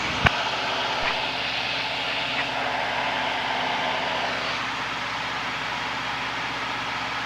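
A training airplane's engine drones steadily while taxiing toward the runway for departure, a continuous broadband hum with a brief sharp click near the start and no talk.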